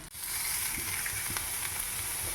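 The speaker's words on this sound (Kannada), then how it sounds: "ಈರುಳ್ಳಿ ಮತ್ತು ಮೆಣಸಿನ್ಕಾಯಿ ಅದನ್ನು ಹಾಕಿಬಿಟ್ಟು ಫ್ರೈ ಮಾಡ್ತಾಯಿದ್ದೀವಿ" Chopped onions and green chillies fry in a pan for upma, a dense, continuous close sizzle with a few soft stirring knocks and no talk.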